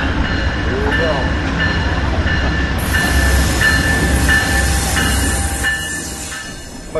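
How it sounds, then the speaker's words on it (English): Steady rumbling of the Amtrak California Zephyr passenger train rolling on rails, with continuous wheel noise, a faint squeal and a voice talking over it. "I'm on a train."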